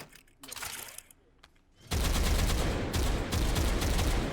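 Full-auto gunfire in the VR shooting game H3VR sounds as a dense, loud, continuous rattle of rapid shots that starts abruptly after a quieter stretch of voices and handling noise.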